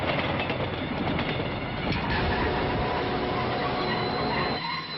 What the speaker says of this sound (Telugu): మూడో ప్లాట్ఫామ్ మీద నుంచి బయలుదేరిన విశాఖ ఎక్స్ప్రెస్